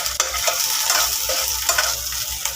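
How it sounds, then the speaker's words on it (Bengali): Shukto made with coriander leaves sizzles and fries in a pan with occasional stirring scrapes, a steady close hiss throughout. "এখন আমি ধনিয়া পাতা ডালব আমার শুক্তিটা ভেজে দিচ্ছে"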